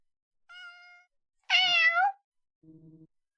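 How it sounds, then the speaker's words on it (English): A cartoonish cat meows three times in the Bear's Restaurant video game, a soft short mew, a louder drawn-out bending meow, then a faint low chirp, each clean and separated by silence. "It's the Odin cat."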